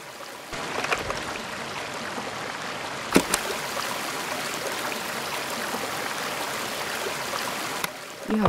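Fresh water stream flowing in Season: A Letter to the Future, a steady rushing babble close by that holds evenly throughout, with a brief click midway and a softer start and end.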